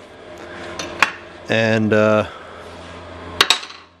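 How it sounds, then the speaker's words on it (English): A hammer strikes a dolly on an aluminum boat propeller being straightened out, with sharp metallic clinks, two sustained ringing tones in the middle and a cluster of taps near the end. "I guess I'll kind of try to hammer dolly it out a little bit."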